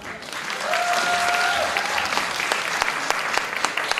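Audience applause for the crowned winner of a 2014 local beauty pageant, Miss TV Brodnica.pl, fills the whole stretch as steady, dense clapping from a crowd, with a few sharper claps standing out near the end.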